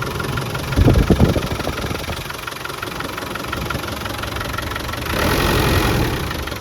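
A 1996 Land Rover Defender 90 300tdi diesel engine idles steadily with a low, even rumble, a couple of louder knocking bursts early and a rise in noise near the end.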